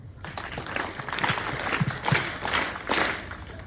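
An audience at an environmental awareness gathering claps together in a dense, steady round of applause for a few seconds.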